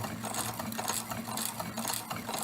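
A hand-cranked piston ring grinder works a piston ring for a 5.3 LS engine in a steady, close whirring grind with a faint rhythmic ratcheting texture, continuous through the short stretch.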